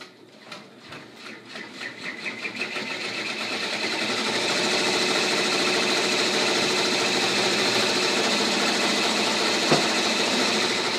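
An embroidery machine stitching a pink vinyl applique for a troll girl peeker design starts with quick, separate needle taps, then speeds into a loud, continuous whirring stitch run that stays close and steady.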